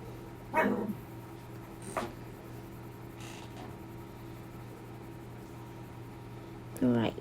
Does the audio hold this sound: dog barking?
yes